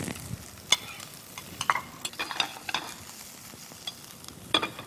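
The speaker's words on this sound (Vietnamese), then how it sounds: "Thì chị sẽ nấu đây một nồi chảo." Fish rice porridge being cooked in a pot, with a spoon scraping and knocking against the pot in an uneven stirring rhythm over a low bubbling hiss; close and fairly quiet, with no talking.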